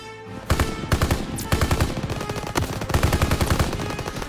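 A machine gun fires in a Call of Duty level set during the liberation of Paris, loud rapid automatic bursts in several strings separated by short pauses.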